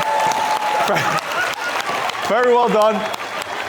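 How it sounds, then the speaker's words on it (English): A conference audience claps after being invited to applaud itself at an employer branding event. The applause is moderately loud and mixed with a host speaking over it, and an excited voice rises near the end. "give yourself a round of applause"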